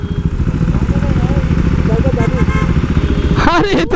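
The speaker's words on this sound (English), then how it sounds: "You wanted to rev the bike?" A KTM Duke 390 motorcycle engine runs steadily with a throbbing idle and rises in a brief rev near the end, loud and close, with people chatting over it.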